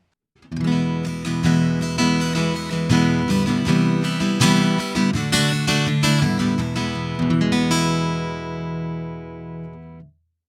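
Strummed chords in a triple O acoustic guitar tone modeled by a Line 6 Variax Acoustic 700 ring out bright and close, steady for about nine seconds, then stop.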